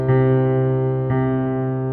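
A sustained keyboard chord rings out while a higher note is struck again about a second later, the low tones holding steady underneath.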